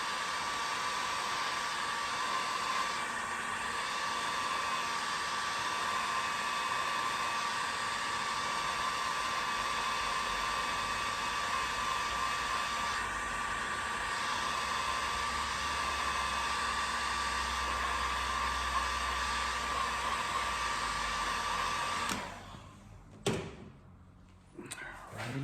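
A heat gun or hair-dryer-style blower runs for a long, steady stretch, warming the rubber core of a braided fuel line. The loud, even whoosh holds for about twenty seconds, then cuts off and a few knocks follow.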